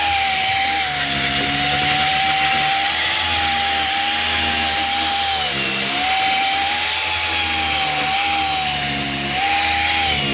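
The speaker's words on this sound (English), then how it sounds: "I'm going to get the wire wheel, and I'm going to start getting all the seam sealer off." Wire wheel on a power tool grinding seam sealer off the body of a Nissan 240SX drift build, a loud, steady high whine with continuous scraping and rasping, close up and unbroken.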